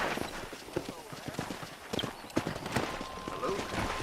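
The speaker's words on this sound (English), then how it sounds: "let's see if you can still ride a horse" Horse hooves in the Western video game Red Dead Redemption, a rapid rhythmic clip-clop of riding under a voice talking, close and moderately loud.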